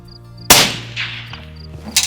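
Two loud rifle shots ring out outdoors while hunting monkeys, dassies and guinea fowl. Each crack is followed by a short echo, over a steady background hum.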